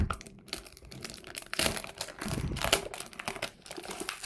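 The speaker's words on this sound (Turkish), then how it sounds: "Şu arka paketinden açalım. Ay açılmıyor ya." A plastic package is pulled and worked open by hand, with continuous close crinkling and crackling that comes in uneven bursts and has no talk over it.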